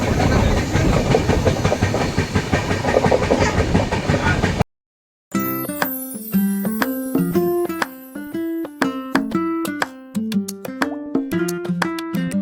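A train pulls into Trivandrum Central railway station in Kerala, arriving from Kanyakumari. For about four seconds there is a loud, continuous rolling rumble and clatter, then a brief silence before music begins.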